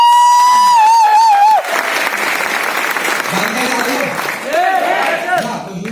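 A seminar audience breaks into loud, sustained applause and cheering for a youth icon introduced on stage, after a brief sustained musical tone at the start; the clapping crowd stays dense and near throughout.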